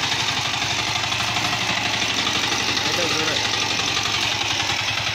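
A 10 hp diesel mini tiller engine runs steadily at idle, a loud, close, continuous knocking putter with even rhythm throughout.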